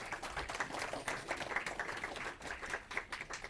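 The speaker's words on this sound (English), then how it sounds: "Round of applause." Applause from the audience of a FOSDEM 2015 Internet of Things developer room session at a conference, a faint, steady patter of many hands clapping that continues for several seconds.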